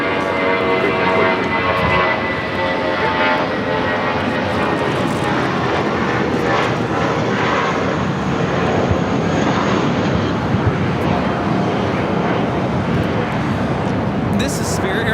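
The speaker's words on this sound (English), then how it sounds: "This is Spirit Airlines 1043 taking off to San Antonio on the A320." A Spirit Airlines Airbus A320 takes off from Los Angeles airport, its loud jet engine roar sustained and close throughout, with people talking over the noise.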